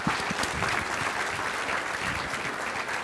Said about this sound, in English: please give them a very big round of applause.